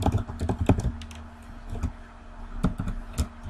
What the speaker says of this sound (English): So I will type like this